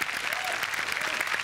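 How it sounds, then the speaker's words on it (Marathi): A studio audience at a Marathi comedy show bursts into steady, dense applause for the actors, with a faint voice under the clapping. "अभिनेत्री नम्रता कदम यांच्यासाठी जोरदार टाळ्या"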